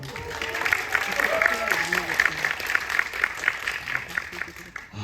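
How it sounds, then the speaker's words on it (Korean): Applause from a cinema audience at a Korean film screening with a director and actor Q&A, a steady broadband clatter of many hands that holds for about five seconds at moderate loudness. "여러분 박수 한번"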